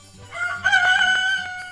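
A rooster crows once, a single rising, drawn-out call, close and clear against a quiet background.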